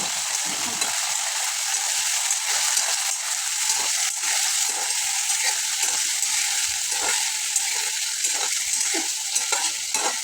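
Food sizzles and crackles steadily as it is roasted and stirred in a pan while making masale bhaat, a continuous close frying hiss with occasional scraping taps.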